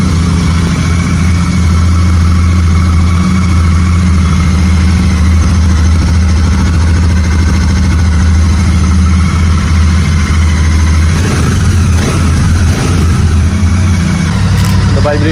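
A 2023 Royal Enfield Super Meteor 650 twin idles close by, a steady, deep, even thrum throughout, with people talking over it.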